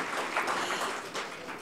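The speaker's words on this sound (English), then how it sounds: "I think we should have louder applause, ladies and gentlemen." An audience at an energy-efficiency conference event applauds steadily, a dense wash of many hands clapping throughout at moderate level with no speech over it.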